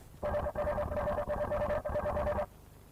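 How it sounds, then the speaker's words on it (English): A robot swarm communicates in four rapid electronic trilling bursts, each about half a second, ringing in quick succession like a warbling phone-style signal, fairly loud and close. "You may also hear the swarm communicate,"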